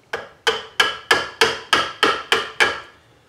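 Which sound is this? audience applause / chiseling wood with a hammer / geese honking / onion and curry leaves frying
chiseling wood with a hammer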